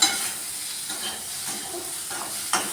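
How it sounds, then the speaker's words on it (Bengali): Onion and fresh green chili fry together in a pan, giving a continuous close sizzle with soft stirring scrapes and a small knock near the end, with no voices. "পেঁয়াজটা প্রায় ভাজা ভাজা হয়ে এসছে আমি এখন ওপর থেকে দিচ্ছি এই লঙ্কাটা সবুজ কাঁচা লঙ্কা"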